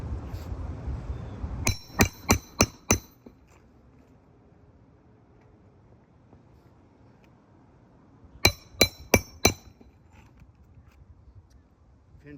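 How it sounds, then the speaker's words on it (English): Two bursts of four sharp, evenly spaced hammer blows on a roof sound close and loud with a ringing, clinking edge, separated by a long quiet stretch of faint background hiss. "We've got some significant levels of granular loss here just by hammering on the roof."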